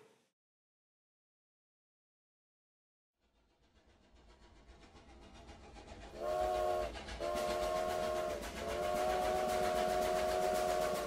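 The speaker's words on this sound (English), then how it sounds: "toot your train horn" Three train horn blasts from a railway-themed event sound close and loud over a steady rumble: two short toots, then a long sustained one.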